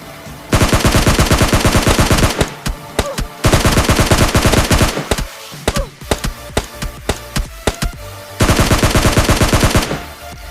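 Rapid automatic gunfire from PUBG Mobile Lite in long sustained bursts, with short pauses and scattered single shots between them, loud and close.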